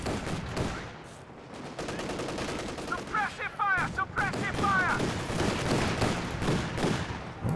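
Combat in Company of Heroes 2 involving a flame half-track, with dense rapid gunfire and bursts of machine-gun shots throughout, mixed with explosions and a commentator talking over the battle.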